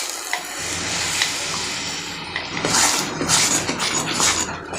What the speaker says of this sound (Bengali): এখন এর মধ্যে দিয়ে দেব টমেটো পেস্ট